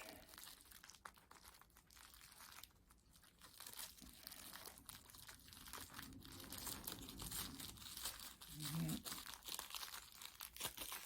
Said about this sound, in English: I have to tie the bag off inside. So I twist it really tight